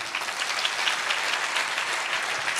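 A church congregation claps continuously and steadily throughout, a dense, even applause filling the room without pause, with no voices rising above it.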